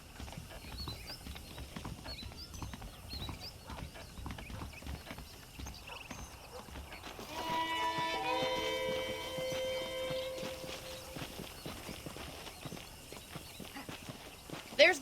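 Horse hooves clip-clop in Red Dead Redemption, a steady walking rhythm of soft thuds that runs through the whole stretch while game music swells in the middle and a voice talks over it.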